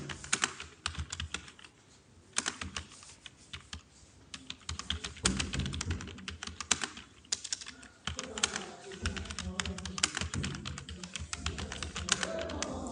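Rapid keystrokes on a computer keyboard while entering text at a command prompt, a dense run of close clicks and taps with short pauses and no talking.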